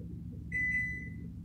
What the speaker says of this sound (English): Turn off my timer.